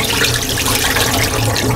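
Rinse water pouring off soaked sushi rice in a kitchen, a steady close splashing stream that runs without pause, no voices over it.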